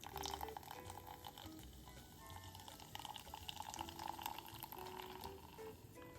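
Club soda poured slowly into a glass for a chocolate soda, giving a faint, steady fizz and trickle of carbonated liquid with no talk.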